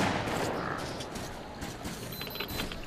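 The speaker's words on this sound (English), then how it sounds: "I just hear a fuckload of gunshots" Gunfire in the video game Metro 2033 Redux crackles in a dense, continuous burst of shots and clattering mechanisms, loud and close throughout the short stretch.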